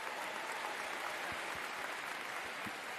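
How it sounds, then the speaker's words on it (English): A round of applause, heard as a dense, steady hiss of clapping that stays even and continuous throughout, with a few soft low thumps underneath. "Hold on, I gotta give myself a round of applause."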